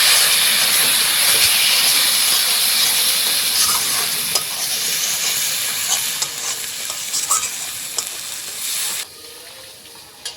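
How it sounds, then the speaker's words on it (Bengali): Fish curry spice paste stir-fried in a pan after a splash of water, for a katla fish curry with lentil badi and potatoes; steady close sizzling and hissing with scraping stirs throughout, no talking. "জল দেওয়ার পরে মশলাটাকে ভালোভাবে এখন কষিয়ে নেব"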